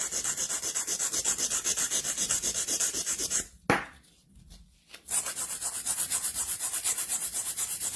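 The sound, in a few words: coarse nail file shaping sculpting gel nails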